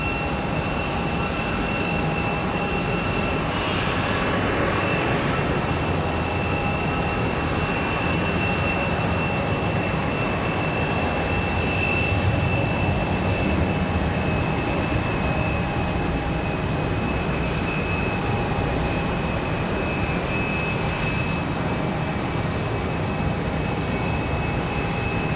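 American Airlines jet in Piedmont retro livery departing Raleigh-Durham for Charlotte, a constant heavy engine roar with steady whining tones running loud and unbroken for the whole stretch.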